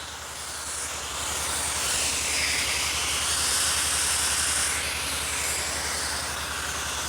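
A garment steamer hisses steadily as it steams a wrinkled suit jacket buttoned at the top, a continuous close breathy rush that swells slightly midway with a low hum beneath, and no talking.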